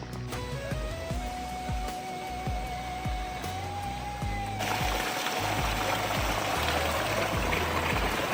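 Water from a waterfall stream at a day-camping spot in Camputaar, Panchthar, rushes in a continuous broad hiss that swells noticeably louder and fuller midway through, as if drawing closer to the flow.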